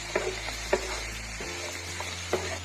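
Small onions and curry leaves fry in oil for a mushroom roast, a soft close sizzle broken by a few sharp scrapes and taps of a spoon stirring the pan.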